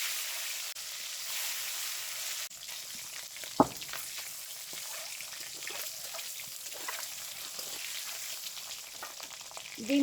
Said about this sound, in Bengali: ডিম ভাজে নেই।